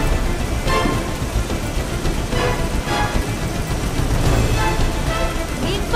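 A cartoon storm at sea brings loud, dense rain pouring without a break, with deep thunder rumbling through it and swelling in a few spots.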